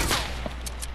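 A hunting rifle fired in a video game, a sharp loud shot at the start followed by a couple of fainter cracks within about a second.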